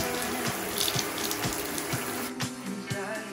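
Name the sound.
bathtub tap water rinsing bleached sweatshirts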